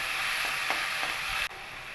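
Carrots and potatoes fry in hot oil with a steady, close hiss of sizzling that dips briefly partway through before continuing evenly.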